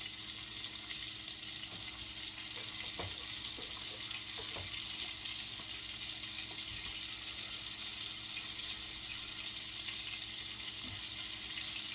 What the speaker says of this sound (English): I'm putting more meatballs in the frying pan.